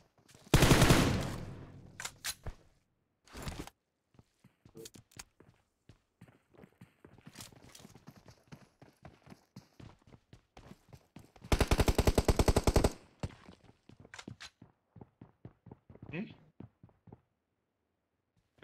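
Gunfire in the battle-royale game PUBG Mobile comes in sharp, rapid automatic bursts, including two long sustained volleys, separated by scattered single shots and footsteps-like ticks.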